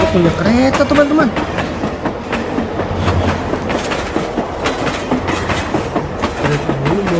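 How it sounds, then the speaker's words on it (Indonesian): A toy train runs along its track pulling wagons, giving a continuous close rattling clatter with rhythmic clicks throughout, while a voice speaks over it. "Kereta ini bawa gerbong juga"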